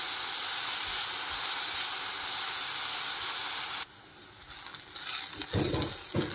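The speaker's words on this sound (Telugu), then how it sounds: "ఇది కాస్త వేగనిద్దాం." Capsicum fries in a pan for a vegetable nest dish. A loud, steady sizzle runs close up, then drops to a softer hiss broken by stirring scrapes and clatter.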